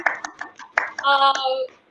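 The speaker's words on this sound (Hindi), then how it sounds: "जोरदार तालियां खुद के लिए प्लीज हो जानी चाहिए।" Scattered hand claps from a small group at a food webinar, a few sharp separate claps at first, then a brief denser burst of clapping that quickly fades.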